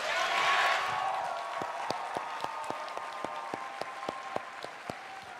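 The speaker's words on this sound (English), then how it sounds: "Give those guys another round of applause." A crowd at the QuakeCon 2015 Quake Live Grand Master Duel final breaks into dense applause that swells early, then thins into scattered, evenly spaced claps.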